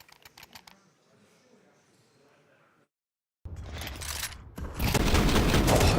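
Gunfire during a professional Counter-Strike match at the IEM Cologne Major: a quick volley of sharp shots at the start, then quieter game ambience, and after a brief gap a loud, dense burst of fire and explosive noise.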